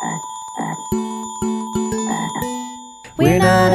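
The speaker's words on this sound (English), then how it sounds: "It's a frog!" Several quick frog croaks sound close by between bright musical tones, followed by a sudden louder burst at the end.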